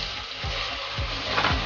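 Tomatoes sautéing in a hot pan with ginger-garlic paste: a steady sizzle with a few soft scraping stirs.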